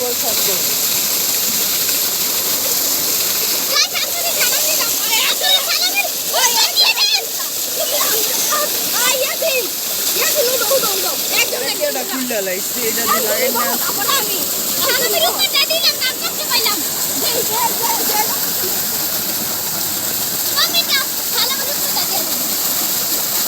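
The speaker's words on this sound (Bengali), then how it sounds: "রংপুরের ডিপ মেশিনে গুছল চলতেছে" People bathe under water gushing from a deep tube well in Rangpur, a steady rushing splash with bursts of slapping and splattering as bodies move through the stream, continuous and close throughout, with voices mixed in.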